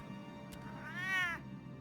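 A cat in Batman The Telltale Series video game lets out a single drawn-out, rising-and-falling meow over a low background hum, quiet and alone.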